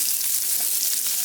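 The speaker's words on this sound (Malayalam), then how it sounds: "അതിലേക്ക് കുറച്ച് കടുക് പൊട്ടി വരുമ്പോൾ നമ്മൾ എടുത്ത സബോളയുടെ പകുതി സബോള ചെറുതായിട്ട് കട്ട് ചെയ്തത് അത് ചേർത്ത് കൊടുക്കാം." Chopped onions sizzle and fry in hot oil with mustard seeds, giving a steady close hiss with no talking.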